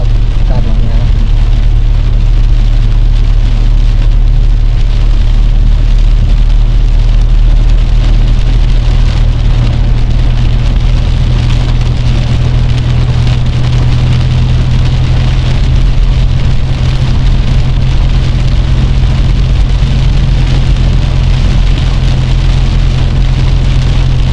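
Heavy rain pours down steadily in Fang, a constant loud hiss of rain on surfaces with a deep low rumble beneath, unbroken throughout.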